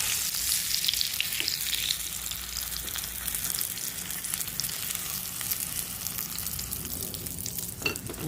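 Tofu pieces fry steadily in hot oil, giving a continuous dense sizzle with occasional crackles and a few scraping sounds near the end, close and alone without speech.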